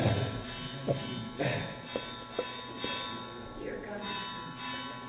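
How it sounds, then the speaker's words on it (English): A lunch bell is struck several times at irregular intervals, each stroke a sharp ringing hit that fades, over a steady background with someone talking. "That's the lunch bell."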